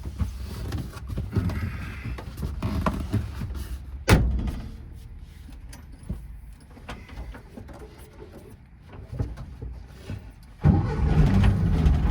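A 1975 Volkswagen 23-window bus with an upgraded 1600 cc engine: a sharp clunk, a stretch of low rumbling, then the engine catches and settles into a loud, steady idle close by.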